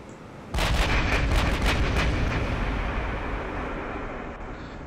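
Naval guns firing in Ultimate Admiral: Dreadnoughts, a sudden loud booming salvo followed by a rolling, slowly fading rumble.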